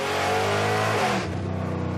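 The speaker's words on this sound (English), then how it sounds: "Yup, this thing is famous for its wicked exhaust note." A Chevy S10 truck engine revs up through its loud exhaust, a harsh rising roar that holds, then drops in pitch as the throttle eases, close and alone.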